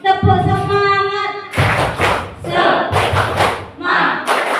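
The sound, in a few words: rhythmic 'tepuk semangat' clapping by a group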